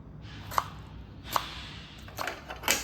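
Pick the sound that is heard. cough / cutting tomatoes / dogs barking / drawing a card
cutting tomatoes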